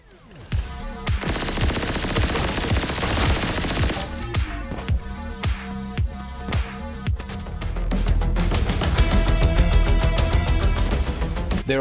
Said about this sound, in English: the weapons sound delightfully chunky